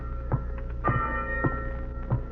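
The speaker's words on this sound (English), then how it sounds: "Why is that bell ringing, Lamont? It's a fog warning." A ship's fog warning bell rings out in a 1941 radio drama, four separate clangs spaced unevenly, each with a sustained metallic ring over a steady low hum.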